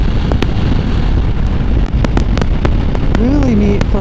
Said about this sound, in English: already starting to notice the wind